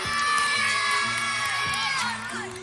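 A school audience of children at a dance contest cheers and shouts loudly, a dense burst of whoops and applause that stays strong and then tapers off briefly near the end.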